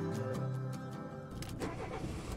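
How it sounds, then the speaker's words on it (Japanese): The engine of a camper van in the video game Highway Blossoms turns over and catches. A dense, loud, rumbling motor noise builds with rhythmic cranking pulses, then settles into a rougher running roar. "私がキーを回すとキャンピングカーはうなるが、エンジンがかかる。"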